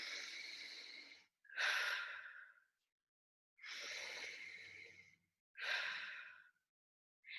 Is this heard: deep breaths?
yes